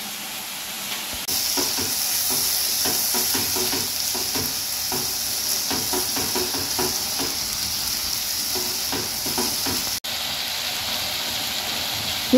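Spices and masala frying in a pan for Punjabi dhaba-style egg curry, with chilli powder, turmeric and salt in the oil, give a steady close sizzle and crackle over the whole stretch, broken by a brief dip near the end.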